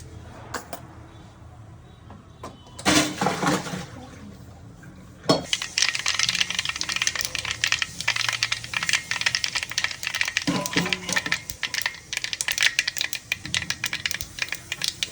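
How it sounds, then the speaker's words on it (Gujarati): Mustard seeds crackle and pop in hot oil while dal is tempered, with quiet pauses and a louder burst before a dense stream of sharp, fast popping sets in and carries on steadily. "રહી બરાબર ફૂટી જાય"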